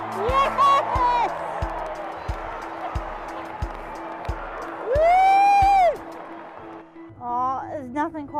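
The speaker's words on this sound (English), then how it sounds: "there's nothing quite like being in the crowd and watching sport live" Crowd cheering and whooping at a live football match, loud and close, with a steady rhythmic thumping underneath and a rising shout near the middle, continuous across the stretch.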